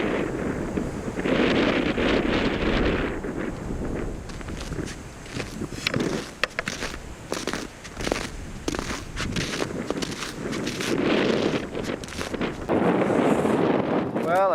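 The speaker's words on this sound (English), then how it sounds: "That's a cold, biting wind." Cold, biting wind gusts and buffets across the microphone in the hills of Labrador, in loud, rumbling surges that rise and fall throughout, with crunching footsteps and someone speaking at times.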